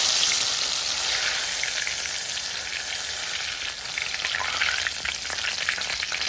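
Ripe papaya slices fry in hot oil, a dense, steady, crackling sizzle with a rain-like hiss that holds evenly throughout, close up.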